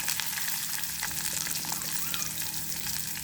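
Onions fry in a pan with garlic and ginger, making a steady, close, even crackle and hiss throughout without pauses or talk.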